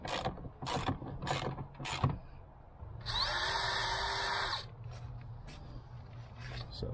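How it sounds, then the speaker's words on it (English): A power drill boring a hole through the top of the rear hatch trim of a 5th generation Toyota 4Runner, one steady whirring burst of about a second and a half between clicks and handling noises. "So drill the hole through the top,"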